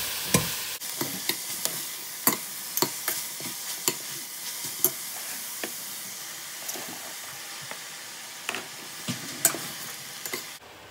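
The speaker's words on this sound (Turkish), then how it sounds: "Karıştırıyorum önce. Bu soğanlar yukarıya çıksın diye." Onions frying in a pan and being stirred for a rice dish, a steady close sizzle broken by repeated sharp scrapes and taps of the spoon, alone without talk.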